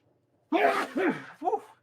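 A single close sneeze bursts out after a moment of silence, followed by a short voiced breath or tail sound, loud and alone with no other noise around it.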